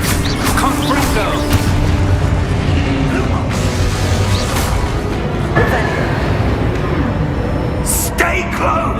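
A Confringo fire spell goes off in the Hogwarts Legacy battle, its loud booming blast buried in dense continuous combat noise and music, with a sharp burst near the end.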